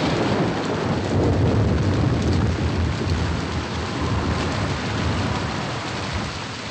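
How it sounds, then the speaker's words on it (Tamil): Heavy rain pours steadily with rumbling thunder mixed in, a dense, continuous loud wash of sound with no voices. "ரொம்ப மழை பெய்யுது"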